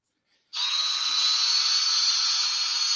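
A Dewalt subcompact power tool whirs up abruptly after a brief silence, then holds a steady, high-pitched electric motor whine for several seconds, close and alone.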